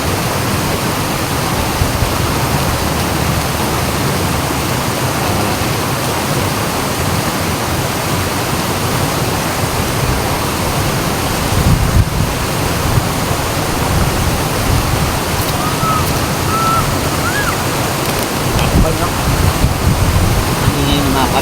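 Water rushing loudly over and around large rocks, a steady broadband roar that fills the whole stretch without pause, close and constant, with no talk heard.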